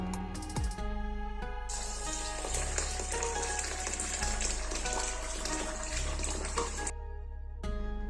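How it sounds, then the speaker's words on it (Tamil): Soaked rice for tapioca dosai being washed in water, a steady loud rush of running and sloshing water that goes on for several seconds before cutting off abruptly. "இதை ரெண்டுலேருந்து மூணு வாட்டி நல்லா வாஷ் பண்ணி எடுத்துக்கலாம்"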